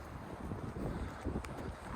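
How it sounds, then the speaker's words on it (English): Gusty wind rumbles and buffets faintly against the microphone in uneven low surges on a downhill street walk between Atherton and Farnworth, with no voices. "Still pretty windy."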